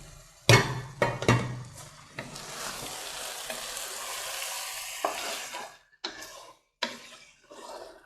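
Egusi soup cooks in a pot with a close bubbling and sizzling texture, opened by a few sharp knocks of a lid or spoon, with later gaps and bumps of handling.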